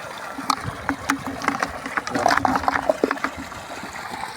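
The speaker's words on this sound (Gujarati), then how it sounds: "જુઓ પાણી જાય ધોરિયામાં" Water runs through an irrigation channel in a summer pearl millet field, gurgling and splashing close by in an uneven stream, with small irregular splashes and no talk.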